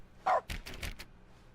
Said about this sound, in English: Where's the dog? Show me the puppies.